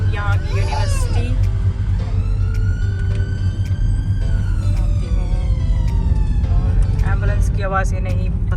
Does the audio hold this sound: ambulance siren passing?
yes